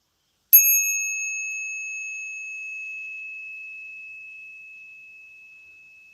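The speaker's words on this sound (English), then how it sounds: "Who is the sound of the bell?" One bright metallic bell struck once, a clear pure ring that starts suddenly and then fades slowly over several seconds, heard alone with no voices.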